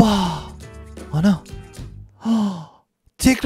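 A sharp gasping breath of someone coming back to life, followed by heavy sighing exhalations and a final quick intake, close and loud with short pauses between breaths.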